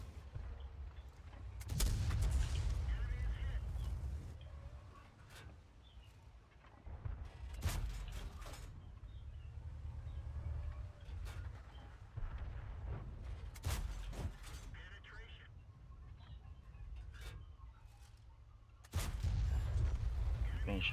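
A KV-1S tank's large-calibre derp gun fires HE shells in World of Tanks, about four heavy booms spaced several seconds apart over a steady engine rumble, with a voice talking in between.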